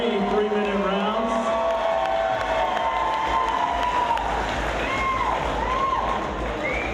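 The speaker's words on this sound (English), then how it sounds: "Let's give them a round of applause after three-minute rounds." A crowd at a boxing fight applauds and cheers the fighters after their bout, a dense continuous wash of clapping and shouts with an announcer's voice carrying over it throughout.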